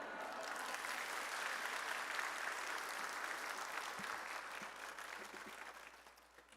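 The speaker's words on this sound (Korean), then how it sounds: "우리 선교사님 나오실 때에 할렐루야와 큰 박수로 환영하겠습니다." A church congregation at a Sunday afternoon service applauds to welcome a missionary, a steady, fairly distant wash of many hands clapping that slowly fades toward the end.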